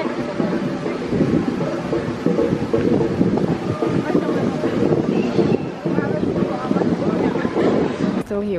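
Strong wind at Château La Coste near Aix-en-Provence buffets the microphone in a steady, loud rushing roar throughout.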